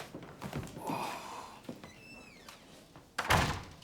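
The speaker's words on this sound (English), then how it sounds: "Close the door." An office door is pulled shut with a single solid thunk, fairly close and loud, following some shuffling and faint room sounds, in a period police station setting.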